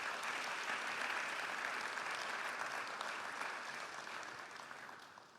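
An assembly audience at a closing ceremony of a general conference on insurance applauds, a steady, fairly distant wash of clapping that slowly fades toward the end.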